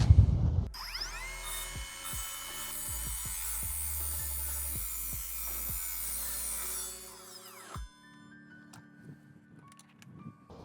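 A cordless mitre saw, the Evolution R255SMS-DB-Li, cuts 25 by 25 mm steel piping with 1.5 mm walls: a loud, steady high-pitched metallic whine and grind lasting several seconds, then the motor winds down to quiet clicks.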